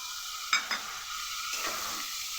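Spice paste of ginger, cumin and turmeric with a little water sautéing in a pan for a light fish curry, a steady close sizzle broken by two quick stirring clinks.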